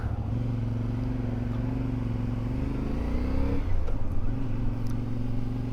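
A CFMoto 450 MT motorcycle ridden on the road, its engine droning steadily up close, with one pitch shift partway through and a rush of wind over it.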